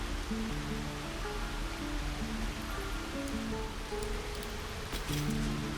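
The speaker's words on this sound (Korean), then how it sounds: "소리가 변했는데 이거 폭포 소리인데?" Waterfall in the video game Baldur's Gate 3, a steady rushing wash of water that holds evenly throughout, with faint layered musical tones underneath and no talk.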